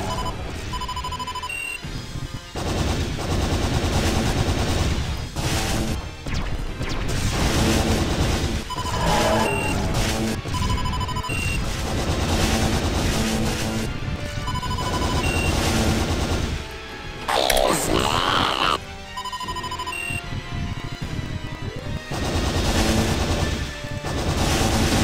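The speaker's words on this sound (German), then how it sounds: "Ich bin ziemlich unter Beschuss." Spaceship laser gunfire striking the player's craft in the space combat game Wing Commander Prophecy, dense rapid blasts and crashing impacts over an electronic soundtrack, loud and nearly continuous with no talk.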